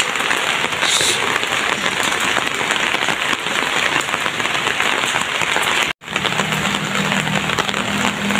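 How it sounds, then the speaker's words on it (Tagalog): Heavy rain heard while walking outside, a steady, dense hiss of drops pattering on surfaces. It stays close and loud, with one brief cut near the end. "ito kami ni Frederick naglalakad sa ulan."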